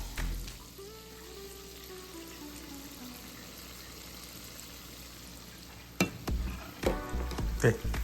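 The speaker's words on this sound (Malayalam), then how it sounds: "ഫ്രൈ ചെയ്യാം" Semolina vada frying in hot oil until dark golden brown, a steady close sizzle that grows louder and bubblier near the end with a few clattering bumps.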